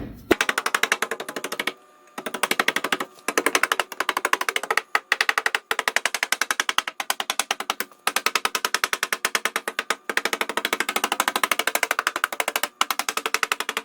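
Outer and inner car body sheet metal being cut to fit widebody flares: a loud, rapid, rattling power-tool buzz runs almost continuously, broken by a few short pauses, with no talking.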